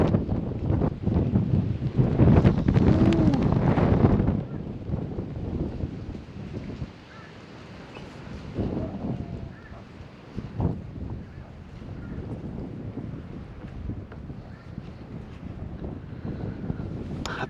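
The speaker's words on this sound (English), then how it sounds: "But it's getting windy." Wind gusts roar over open water around a small fishing boat in Cockroach Bay, loud and buffeting at first, then easing to a steadier rush with light wave splashes.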